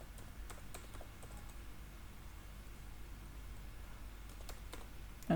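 Code is typed on a computer keyboard in quick, light clicking bursts with brief pauses, fairly faint over a steady background hiss.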